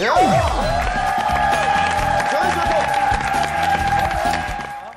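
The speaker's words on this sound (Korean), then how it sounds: "박수 주세요." Studio audience clapping and cheering on a Korean TV talk show, a steady burst of applause under a bright musical jingle with a falling swoosh at the start, fading toward the end.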